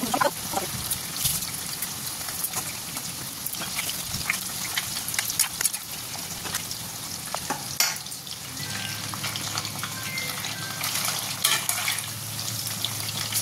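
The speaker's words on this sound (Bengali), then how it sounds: "চিকেনগুলোকে ভালো করে এপিট উপিট করে লাল লাল করে ভেজে নিতে হবে।" Marinated chicken fries in hot oil in a kadai, a loud continuous sizzle and crackle with occasional stirring scrapes and bursts throughout.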